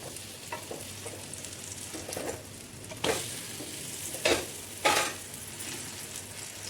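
Snack pieces fry steadily in a pan just after being flipped, giving a soft continuous sizzle broken by a few sharper bursts and scrapes, close by with no talking.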